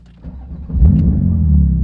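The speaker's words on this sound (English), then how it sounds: "On va partir faire un tour avec sa superbe GT2 RS Monte Racing" A Porsche 911 GT2 RS Manthey Racing engine rises from a low rumble into a loud, deep acceleration up close over about two seconds, with no talking.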